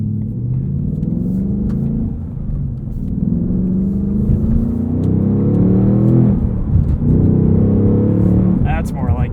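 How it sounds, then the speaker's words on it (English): A 2022 Ford Mustang Mach 1 with a manual gearbox and handling package sends out a deep, loud engine and exhaust rumble that swells as the revs climb, with a rising sweep near the end. "exhaust is quite a bit louder too in this mode"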